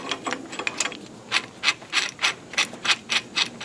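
Tool threading a rear brake part into a 2014 Ford Explorer, a rapid run of close ratcheting clicks in a steady rhythm, no talking.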